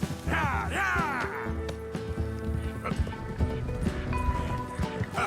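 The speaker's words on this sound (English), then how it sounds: "The moment the horses start sprinting" Horses galloping in Red Dead Redemption 2, a rhythmic clatter of hooves under a neighing whinny early on and overlapping talk.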